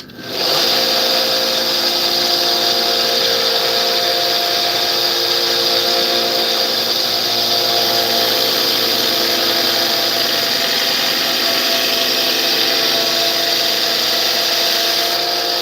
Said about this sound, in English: About to turn the grinder on, so if you got headphones on, warning, it gets a little loud.